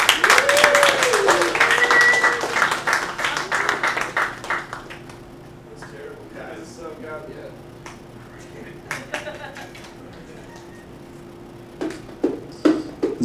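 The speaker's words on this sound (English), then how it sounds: "everybody just applause while I get the bongos." Audience applause at a comedy night in a bakery and cafe, a burst of clapping for the first few seconds that thins out under someone talking, with scattered claps returning near the end.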